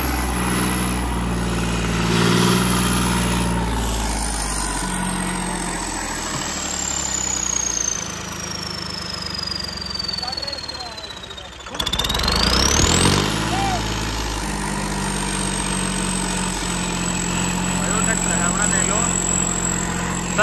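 A tractor engine idles and rumbles steadily nearby for a long stretch, dipping briefly midway, while someone talks over it as the tractor turns.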